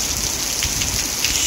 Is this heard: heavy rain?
yes